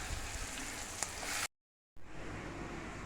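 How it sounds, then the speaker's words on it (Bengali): Leafy greens (shak) frying with a green chilli and onion in a pan of oil, giving a steady, close broadband sizzle that cuts out briefly and then resumes a little softer, with no talking. "একটা লঙ্কা আর একটু পেঁয়াজ দিয়ে এবার শাক ভাজাটা।"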